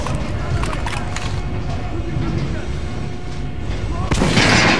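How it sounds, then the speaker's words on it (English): Video game gunfire at an armored dummy in a practice range sounds as rapid reverberant shots over a rumbling background, ending in a louder burst, with a voice speaking through it. "Now shoot the armored dummy."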